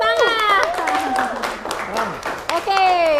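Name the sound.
applause, students clapping in class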